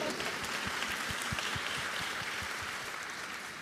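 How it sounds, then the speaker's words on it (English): Audience applause at a youth forum on HIV, a dense steady wash of many hands clapping throughout, moderately loud and fading slightly toward the end, with no voices over it. "Yeah, give him an applause."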